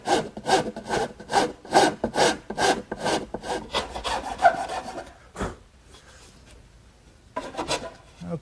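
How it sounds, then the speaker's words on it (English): A hand rasp files down the side of a wooden Shaker wash stand, with about a dozen rhythmic, close scraping strokes, a brief pause, then a few more strokes. "So I'm going to even those out using my rasp."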